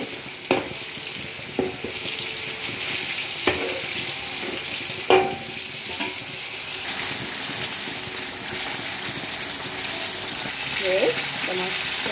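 Black pepper chicken fries in a pan with a soft, steady sizzle, punctuated by several sharp clanks and scrapes of a utensil against the pan, with no one speaking.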